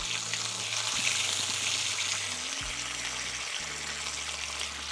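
Donair burgers sizzle while cooking over an open flame outdoors, a steady close crackling fry with low hum and occasional clunks underneath.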